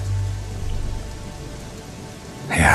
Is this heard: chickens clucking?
no